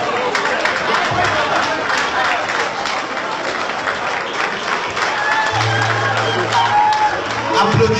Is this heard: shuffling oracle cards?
no